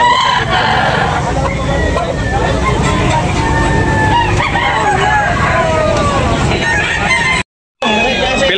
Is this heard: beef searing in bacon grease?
no